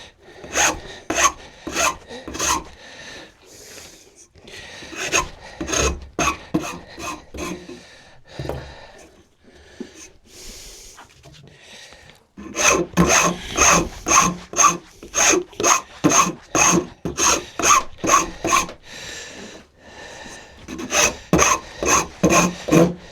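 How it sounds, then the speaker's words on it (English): A wood rasp files a wooden dog gate part in steady, loud back-and-forth strokes, a pause in the middle, then a faster regular run of strokes, alone without talk. "A finer rasp."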